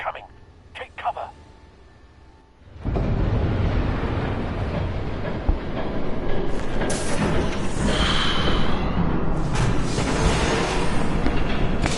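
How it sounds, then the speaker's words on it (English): A train rushes past in the Batman Telltale video game, a loud, dense roar that surges in after a few quiet seconds with a brief voice, then holds steady and close for about nine seconds. "There's a train coming."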